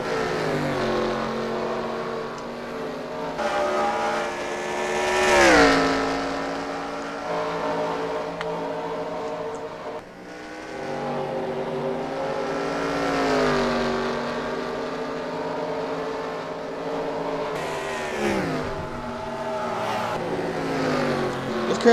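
Engine roar from NASCAR Cup race cars in the NR2003 racing game at the Toyota Owners 400, a continuous droning whine that swells and fades as cars pass, with commentary voices over it.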